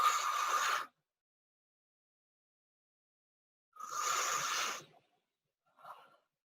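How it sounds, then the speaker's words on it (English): Pursed-lip breathing exercise: a long breath pushed out through tightly pursed lips, then after a pause a second similar exhale and a short softer puff, each airy and hissing, close and alone. "You are going to purse your lips as if you are breathing in through a straw, and then you're going to just let the breath fall out"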